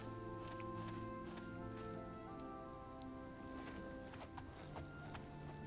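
Horse hooves clip-clop in the video game Oblivion as the horse runs into a wall, a steady run of hoofbeats over continuous game music with a few sharper knocks.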